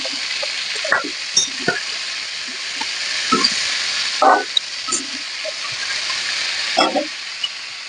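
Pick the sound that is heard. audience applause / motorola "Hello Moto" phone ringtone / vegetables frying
vegetables frying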